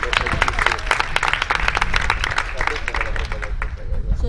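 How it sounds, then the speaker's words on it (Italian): An audience applauds at an outdoor LGBTQI+ community evening event, a steady, dense wash of many hands clapping, with crowd voices mixed in underneath. "Un applauso."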